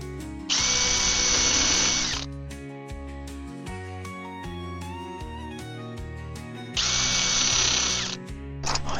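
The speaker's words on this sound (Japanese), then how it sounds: "固定してビスを打っていきたいと思います。" A power drill drives screws into a wooden window frame being built for a DIY camper van conversion, with two loud, close whirring bursts of about a second or two each separated by a quieter stretch with faint background music.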